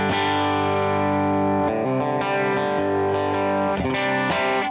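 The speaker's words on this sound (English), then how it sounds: "You can kind of hear the compression." Clean electric guitar runs through a compressor pedal on a Line 6 HX Stomp XL rig, strummed chords ringing evenly and sustained, with a few chord changes, close and steady in level with no talking.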